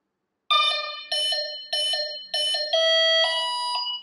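A series of electronic beeps from a Vector SR80 Pro speed controller initializing plays close by: several short paired tones in a steady rhythm, ending in longer, rising confirmation tones.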